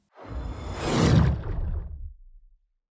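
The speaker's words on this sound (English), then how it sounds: "Let's search for a whoosh. We can audition the results by clicking them." A single whoosh sound effect, auditioned from a sound library, swells from a soft start to a full rushing peak and then tails off over about two and a half seconds, heard alone.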